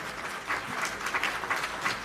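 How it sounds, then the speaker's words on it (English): Applause from an audience at a chamber of commerce monthly membership meeting: a steady, moderately distant patter of many hands clapping, with slight swells in intensity over about two seconds. "let's give one more round of applause for Mike DeGuzman."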